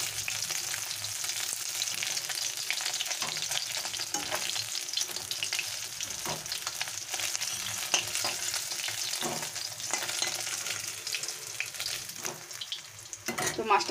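Lata snakehead fish frying in hot oil, a continuous crackling sizzle with scattered sharper pops and spatters, steady and fairly close throughout.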